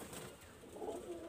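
A pigeon from a master breeder's loft coos briefly and softly, a short low call standing alone against quiet room noise.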